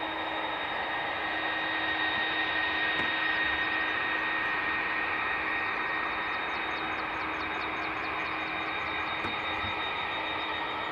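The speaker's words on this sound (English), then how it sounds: "Great noise coming off that 330" An Airbus A330 airliner's engines roar at Dublin Airport, a loud, continuous broadband rumble with a steady whining tone, unbroken throughout and with no talking.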